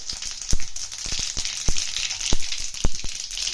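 Mustard seeds, cumin and dried red chilies sizzle in hot oil for a taro root tamarind stew, a steady high frying hiss broken by several sharp popping crackles of seeds bursting close by.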